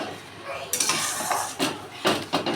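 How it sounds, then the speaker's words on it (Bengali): Yogurt is stirred into a curry in a pan, with a spoon scraping and knocking against the metal in a few quick strokes over a faint sizzle, close and brief. "নাড়তে থাকবো যতক্ষণ দইটা এর সাথে মিশে না যাবে ততক্ষণ নাড়তে থাকবো"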